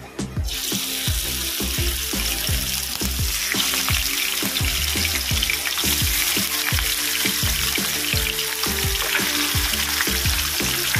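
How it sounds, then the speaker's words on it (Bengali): Boal fish heads fry in hot oil in a wok, a dense, steady sizzle with repeated low clatters and bumps running loud and close throughout, with no talking. "আমি মাছের মাথাগুলো দিয়ে দেবো।"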